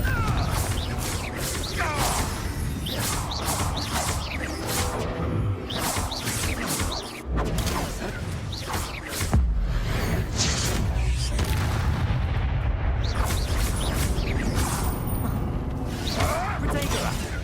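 Confringo blast spell in Hogwarts Legacy combat, a dense barrage of booming explosions, crashes and whooshes layered with battle sounds and voices, loud and chaotic throughout with a heavier impact partway through.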